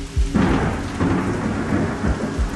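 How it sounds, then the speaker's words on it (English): Loud, close thunderstorm near an airport, with a deep rumble of thunder rolling over steady heavy rain that hisses continuously, no voices. "it appears we have a second part of this storm moving through"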